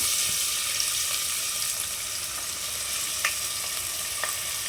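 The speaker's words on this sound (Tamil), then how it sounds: "நல்லெண்ணெய் விட்டுருக்கேன் கொஞ்சம் சூடான அப்புறம் வெங்காயம் சேர்த்துக்கலாம்" Onion frying in hot sesame oil in a pan: a steady, loud crackling sizzle throughout, with a few faint clicks and small pops.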